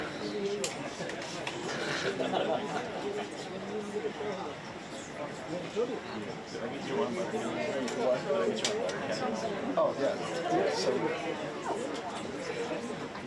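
A crowd at a White House press event chatters in a steady murmur of overlapping voices, a continuous mid-level babble with scattered louder bursts and clicks.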